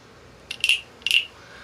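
Two quick ratcheting croaks from a hand-carved wooden frog souvenir, each a short burst of rapid clicks, close and crisp against a quiet background.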